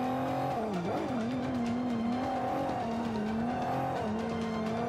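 Race car engine in Forza Motorsport 5 droning steadily with shifting pitch as the car runs off the track, tires scrubbing and skidding under the continuous loud motor.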